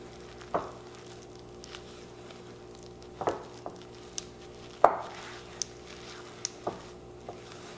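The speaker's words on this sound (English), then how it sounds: "Now we want to add our milk. Okay, mix that in." Milk being stirred into hush puppy batter in a bowl, with a low steady background hum punctuated by a few sharp utensil knocks and scrapes against the bowl at irregular intervals, close by.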